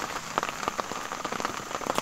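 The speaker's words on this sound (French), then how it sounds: "même bon là il pleut pas mal" Heavy rain pattering steadily on a surface outdoors during a torrential day on a canoe trip, a dense continuous hiss with scattered louder drops and no voices.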